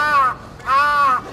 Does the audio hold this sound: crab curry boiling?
no